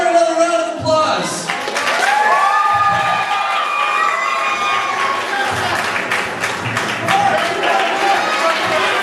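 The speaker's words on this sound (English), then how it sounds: "let's give Aaron another round of applause" An audience at a wrestling show applauds and cheers loudly and continuously, with shouts and whoops rising over dense clapping, and a voice is heard within the crowd noise.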